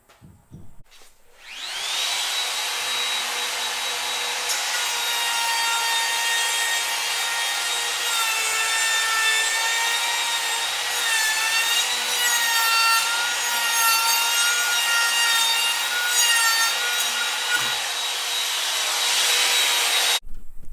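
A small Bosch Colt 1 horsepower trim router cuts wood guided by a jig, a steady high-pitched whine holding for about eighteen seconds after a quick spin-up, loud and close with no talk.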